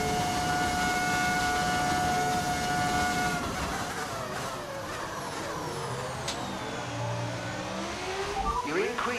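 Racing car engines from the F1 25 game with an audio mod, droning loudly and shifting in pitch as the car accelerates and changes gear, with a steady tone under the engine noise early on and speech mixed in.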